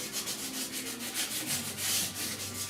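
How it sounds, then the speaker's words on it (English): Close, continuous rasping strokes of a sanding block on primer over the steel roof of a 1969 Chevrolet C10 pickup, rubbing back and forth in a steady rhythm. "Don't sand the primer off, especially the epoxy primer."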